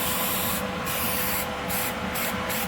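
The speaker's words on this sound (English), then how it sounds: "I can spray inside." Paint-style spray nozzle spraying rust protection inside the quarter panel of a 1995 Mazda, a close, steady hiss broken by several short pauses.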